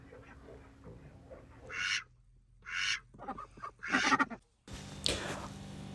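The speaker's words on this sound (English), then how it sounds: "Our ducks are mostly khaki Campbells, and there are also some Indian runners" Khaki Campbell and Indian Runner ducks give several loud bursts of quacking in quick succession, separated by quieter pauses over low background noise.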